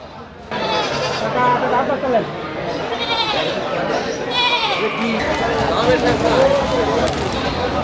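Goats bleat repeatedly, near and far, at a busy village livestock market, mixed with crowd chatter and people talking close by.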